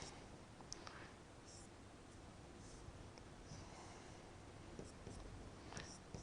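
Pen writing on paper during a maths lesson on sets, soft close scratching strokes with small clicks and pauses, recorded quietly with no speech.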